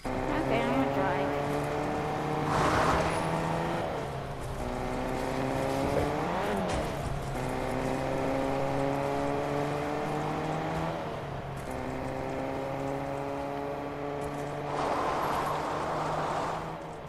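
A car in Fortnite drives with a continuous engine drone whose pitch rises and falls through gear shifts, with occasional tire squeals and a player talking over the motor.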